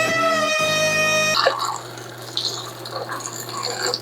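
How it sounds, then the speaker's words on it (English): Hot water is poured off a pot of boiled noodles, a splashing, trickling gush into a sink after a brief high electronic tone, moderately close and free of talk. "you wanna go ahead and drain the noodles out a little bit, let that water out"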